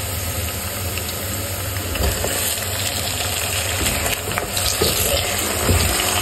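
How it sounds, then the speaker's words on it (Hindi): Chicken pieces sizzling in a hot pan with onions for a Bombay biryani, a loud, continuous crackling hiss filling the space close by, with no talking. "हम इस पॉइंट पर इसमें चिकन डाल देंगे।"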